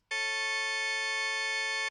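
A synthesized major third interval with engineered overtones begins just after a short silence, holds as one loud, unchanging chord, and then cuts off cleanly near the end.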